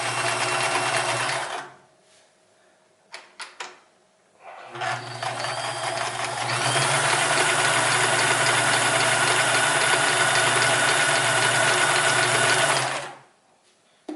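A Sears Kenmore 158 series sewing machine stitching, a steady mechanical whir and hum that starts, stops for a moment with a few clicks, then runs loud and continuous for several seconds before cutting off, close by with no talking.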